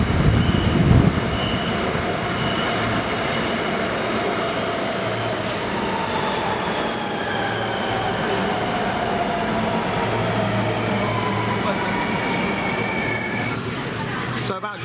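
A Shanghai metro train runs steadily with loud continuous rumble and high wheel squeal along the rails, an interior ride sound that holds constant throughout without breaks.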